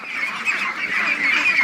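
Ducks and geese being herded by a dog give a dense, continuous chatter of honks and quacks, close and fairly loud for a brief moment.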